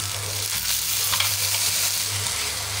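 Mint paste frying in a pan for green peas pudina rice, a close, continuous sizzle with stirring scrapes, loud and steady for the whole moment with no voices.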